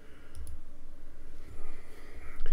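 Sharp computer mouse clicks while mapping keys in the Antimicro gamepad tool, two quick clicks near the start and another near the end, faint and close over a low hum.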